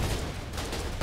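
Enemy gunfire rattles out in Foxhole, a short dense burst of shots that reads as distant and muffled in a dull, noisy wash, with no voices in it.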